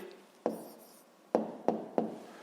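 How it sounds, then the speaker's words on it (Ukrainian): A pen writing out a math answer on paper, four short faint strokes with quiet scratching in between, no talk. "записуємо тоді відповідь"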